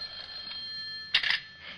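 An old telephone bell rings in a brief metallic burst, then a second shorter ring, over a quiet hissy radio background.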